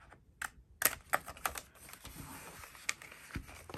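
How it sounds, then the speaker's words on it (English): Scissors snip through paper in a Happy Planner while Dutch doors are cut into the pages, giving sparse, crisp close-up clicks and short cuts in an otherwise quiet room. "I'm just going to get my scissors. Come down straight through here."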